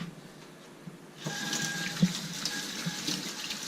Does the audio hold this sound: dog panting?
no